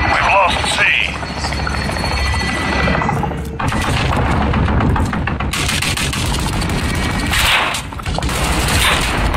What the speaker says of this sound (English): Enemy helo on approach.